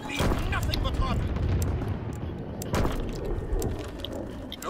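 A V-2 rocket launches and explodes in Call of Duty WWII, a dense roaring rumble with several sharp booms and blasts layered over constant battlefield noise.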